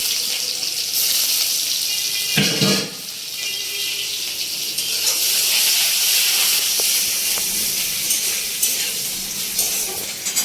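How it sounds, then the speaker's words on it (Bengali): Chopped onion sizzles loudly in oil with bay leaf, cumin, cinnamon, cloves and cardamom. A steady hissing fry runs throughout, with a brief stirring scrape and dip near the third second and occasional clicks from the pan. "পেঁয়াজ এগুলো সব ভাজা ভাজা হয়ে গেছে"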